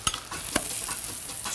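An okonomiyaki with sauce sizzles in a hot pan, giving a steady hissing fry with a few sharp stirring or scraping clicks close by and no voices.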